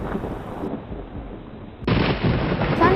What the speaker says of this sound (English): there was a lot of thunder in the sky.